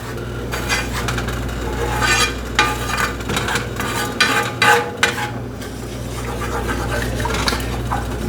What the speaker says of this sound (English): Just work all those bacon bits into your milk and flour.